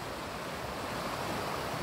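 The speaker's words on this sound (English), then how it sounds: "I enjoy being by the river and just watching the river flowing" A river flowing outdoors in snowy nature gives a continuous broad rushing wash, steady and moderately quiet, with no voices.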